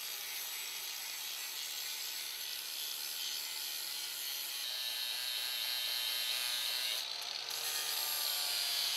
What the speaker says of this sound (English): I'm going to grind just the rough edges off this and get these nice and rounded off